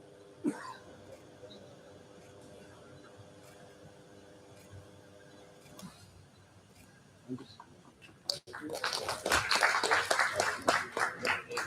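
Applause for dignitaries at a national seminar opening a student chapter, starting suddenly after quiet talk and throat clearing, a dense, loud burst of clapping from an audience that keeps going to the end.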